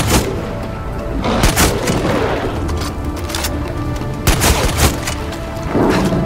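Gunfire erupts in the Far Cry 6 Vaas DLC: loud, booming shots and rapid bursts fire repeatedly over a rumbling action backdrop, dense and close with a few heavier blasts.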